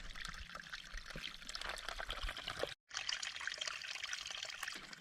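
A small mountain stream trickles and splashes beside a hiking trail in the Great Smoky Mountains, steady and close, broken by one brief gap of near silence.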